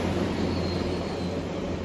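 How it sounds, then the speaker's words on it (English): A container train rushes past a Class 810 Aurora passenger train in a steady, loud, broadband roar of wheels and rails, heard from inside the carriage, with no speech over it. "We're just having to pick up a container train coming back the other way, so hopefully you can hear me."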